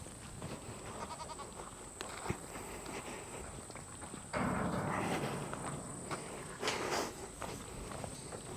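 A herd of goats is driven in at a farm, with soft bleats, shuffling hooves and footsteps, and a burst of louder movement partway through.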